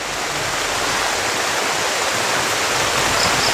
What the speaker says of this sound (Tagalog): Parang malakas na yata ang ulan mga tol.